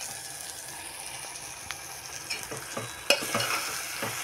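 Fried omelette pieces are added to a simmering beetroot curry and stirred, with soft bubbling and a run of scraping, clinking spoon strokes against the pot growing busier and louder toward the end.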